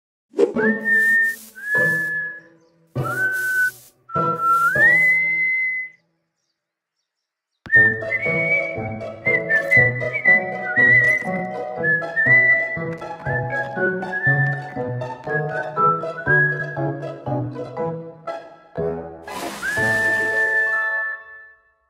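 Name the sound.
whistling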